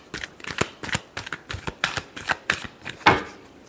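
Tarot cards are given a final quick shuffle, a rapid run of crisp riffling snaps and flicks close to the mic, with one louder slap near the end.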